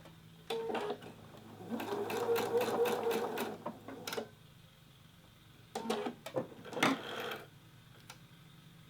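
A sewing machine stitches a foldover elastic collar in short bursts of fast, rhythmic whirring, first one longer run and then a few brief ones, close and moderately loud, with quiet pauses between.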